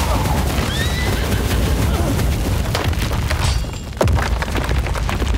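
A volley of cannon and gunfire from the strategy video game Game of Empires: dense, loud booming and crackling bursts over a continuous battle din, with a heavy blast near the end and shouted game voices mixed in.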